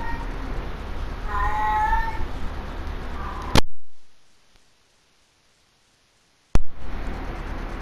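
A female cat in heat gives a drawn-out meowing call over steady background noise, followed by an abrupt cut to silence and then a sudden return of the noise.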